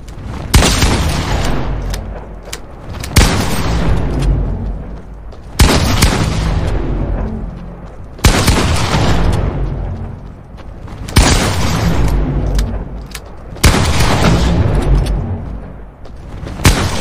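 Shotgun blasts in a first-person shooter game, six heavy booming shots spaced about every two to three seconds, each loud and close with a long decaying roar, no talk over them.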